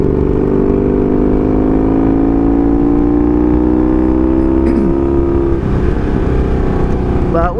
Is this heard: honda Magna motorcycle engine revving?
yes